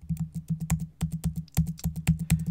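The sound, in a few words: typing on a computer keyboard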